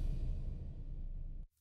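Organic impact sample number 9 from the That Sound Organic pack, used in pop-country drum production, lands as one dense, bass-heavy hit with noisy upper texture, holding steady for about one and a half seconds before cutting off sharply.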